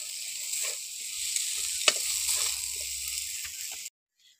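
Ginger, garlic and a chopped green chilli sizzle as they hit softened onion frying in a pan, a steady hiss of hot oil with a brief stirring scrape midway before the sound cuts off abruptly.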